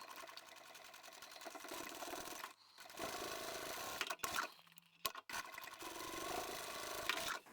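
Sewing machine stitching a small vinyl pouch, heard as rapid, close mechanical rattling bursts with brief pauses between runs of stitches.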